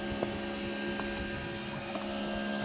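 A steady mechanical motor drone hums continuously with a few faint clanks as a LakeLifter boat lift motor raises the lift.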